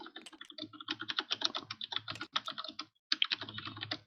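Close, fast typing on a computer keyboard, a dense run of crisp key clicks with a brief pause near the end before the tapping resumes.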